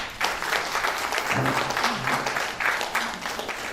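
A round of applause from a modest audience at a sepsis awareness talk and book launch, dense and moderately loud, with a voice briefly heard over it.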